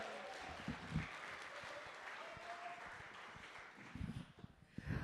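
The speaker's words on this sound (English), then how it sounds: "Let's hear it for Deborah." Steady applause from an audience, continuous clapping at moderate volume throughout, swelling slightly near the end.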